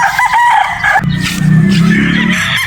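A sweater gamefowl rooster of the 2M bloodline crows loudly and close, a single long cock-a-doodle-doo with some clucking around it and no talk.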